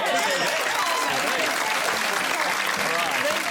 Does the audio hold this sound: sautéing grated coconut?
no